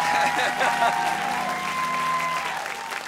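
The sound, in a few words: studio audience applause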